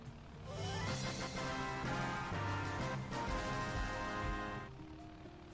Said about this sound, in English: Final Fantasy Victory Fanfare Tone.